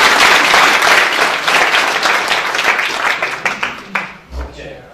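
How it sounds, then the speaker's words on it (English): A room full of people claps loudly and steadily in applause welcoming a volunteer named Michael, dense at first and then thinning into a few scattered claps before stopping. "let's give a round of applause for Michael"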